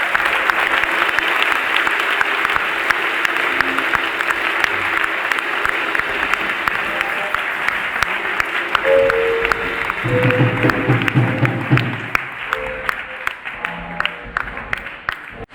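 Congregation at a Sunday church service clapping and applauding loudly and steadily throughout, a dense crowd of hands with a brief musical or vocal tone rising near the end.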